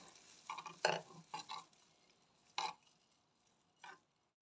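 A spoon stirs milk, rice and salt in a pot, giving a handful of faint, scattered scraping and clinking strokes separated by quiet pauses.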